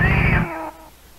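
A cartoonish cat boss in the retro video game Earthworm Jim lets out one loud, drawn-out meow that fades into quieter game audio, alone with no talking.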